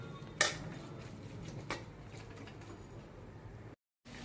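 A spoon scrapes and clinks faintly against a pan while stirring fenugreek leaf bhaji with salt and lentils, giving one sharp knock near the start, a softer one later, and a low steady background hum.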